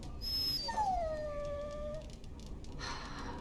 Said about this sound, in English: Oh, I bet that dog led those rats into there to begin with